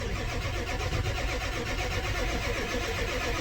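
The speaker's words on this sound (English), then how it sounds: "Cranks a hell of a lot faster." A diesel van engine with glow plugs cranks over on the starter, a fast, rapid chugging churn that runs steadily and close for several seconds without catching.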